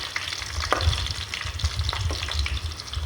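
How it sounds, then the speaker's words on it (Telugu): Pieces of bitter gourd fry in oil for a curry, giving a loud, continuous close sizzle. Occasional scraping stirs punctuate it throughout, with no talking. "ఈ కాకరకాయ ముక్కల్ని చక్కగా నూనెలో మగ్గనివ్వాలి"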